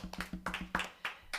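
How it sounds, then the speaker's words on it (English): A few sparse, separate claps ring out in a steady rhythm for the musicians, quiet and close, with no other sound around them. "you at home could once again applaud for these fabulous musicians"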